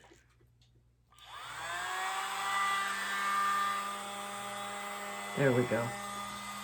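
Steady airy blowing starts after a quiet second and runs continuously, aimed at freshly poured resin in an acrylic pour, with a brief voice speaking near the end over the whoosh.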